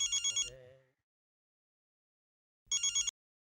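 A telephone rings in two short bursts of rapid electronic trills separated by a long silence, clear and close, with a brief voice in between.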